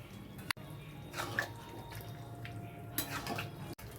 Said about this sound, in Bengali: এবারে আমি পাস্তাটা জল ঝরিয়ে দিয়ে দিচ্ছি।